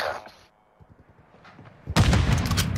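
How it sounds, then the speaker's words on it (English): Shotgun blasts in a video game, a loud burst of sharp booming reports arriving near the end after a quieter stretch of faint tapping. "he has a shotgun!"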